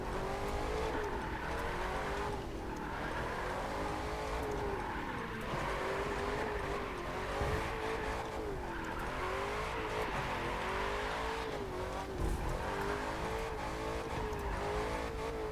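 A muscle car in The Crew 2 bounces off the rev limiter in second gear, its engine tone loud and strained, wavering up and down in a steady, buzzing cycle with no talk over it.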